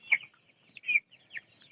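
Three short, separate clucks from 46-day-old tiger chickens weighing about a kilo each, spaced with brief quiet gaps between calls, fairly soft and alone.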